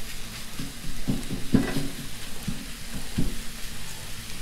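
Food sizzles and fries on a Blackstone griddle while biscuits and gravy cook, a steady close crackle with a few louder spits and scrapes along the way.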